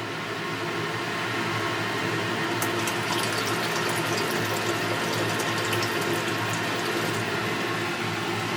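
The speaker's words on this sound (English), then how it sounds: "I'm going to go ahead and pour some in here and keep going with this." Nitric acid poured into a large beaker, a steady close rushing pour of liquid lasting several seconds without a break, with no talking.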